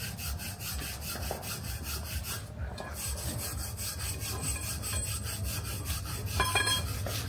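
A saw is worked by hand through what may be an old metal pipe, with a steady back-and-forth rasping that runs continuously at moderate distance with no speech.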